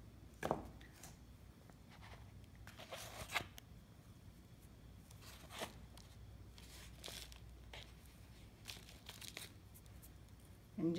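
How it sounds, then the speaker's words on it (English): A knife scrapes the skin from a plant cutting in quiet, close, intermittent rasps and scratches, separated by pauses, over faint background hiss. "I'm gonna scrape the skin here"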